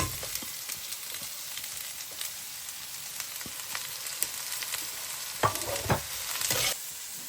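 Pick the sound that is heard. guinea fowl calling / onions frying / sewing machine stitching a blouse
onions frying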